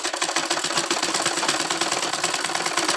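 Sewing machine running steadily while stitching the side seam of a school uniform suit, a fast, continuous mechanical whir with rapid needle ticks, close and fairly loud, with no talking.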